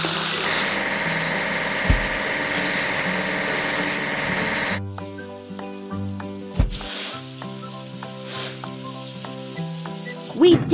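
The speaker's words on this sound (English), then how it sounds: "Now let's wash the dining car." Sounds from a kids' train mobile game washing a dining car: a steady sizzling spray fills the first half, then gives way to tonal game music with scattered clunks and a short burst of hissing.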